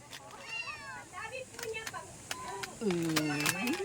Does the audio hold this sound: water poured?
no